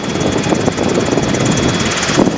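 Robinson R22 helicopter in flight during a training autorotation exercise, its engine and rotor making a steady, loud drone with a faint rhythmic beat throughout.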